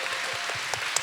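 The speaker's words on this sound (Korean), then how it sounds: "강유석 배우님, 네, 박수 부탁드립니다." An audience at a Korean Netflix event for the series When Life Gives You Tangerines applauds actor Kang Yu-seok, with dense, steady clapping filling the room throughout.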